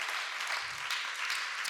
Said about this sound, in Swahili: Pigie Bwana makofi